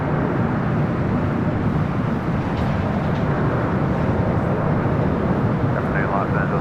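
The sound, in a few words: Air New Zealand Boeing 777 airliner arriving at LAX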